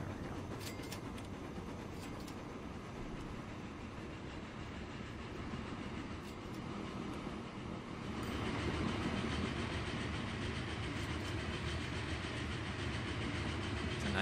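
Train running in the game Transport Fever, a continuous rolling rumble with faint clickety-clack, steady and moderately distant, growing somewhat louder partway through, with no voices.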